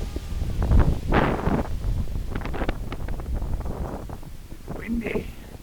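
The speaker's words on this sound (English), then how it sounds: "Windy." Strong wind buffeting the microphone on a mountain peak in the Adirondack High Peaks, gusty roaring bursts throughout with a person speaking over it.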